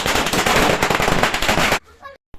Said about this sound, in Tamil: குழந்தைங்களை கூட்டிகிட்டு போய் கீழெல்லாம் பட்டாசு வெடிச்சிட்டு இருந்தோம்